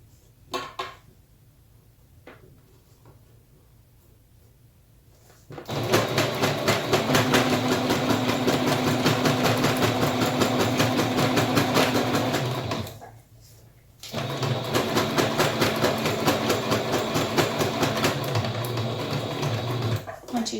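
A sewing machine stitching a fabric mask runs in two long, steady, loud whirring bursts of rapid needle clatter, broken by a brief pause for turning the fabric.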